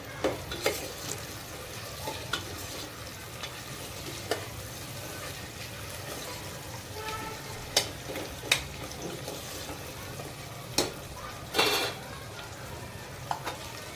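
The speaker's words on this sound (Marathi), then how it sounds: "लगेच एक गाजर घेतलेले आहे, हे परतून घेऊ" Carrot sautéing in a pot for vegetable pulao gives a soft, continuous sizzle at low level, with scattered metallic spoon scrapes and clinks, one louder scrape standing out near the end.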